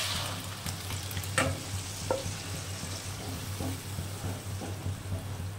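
Mung dal hitting hot oil with fried ginger and cumin for a vegetarian curry gives a steady close sizzle and frying crackle, with a few stirring clinks, and no talking.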